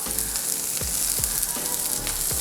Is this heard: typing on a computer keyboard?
no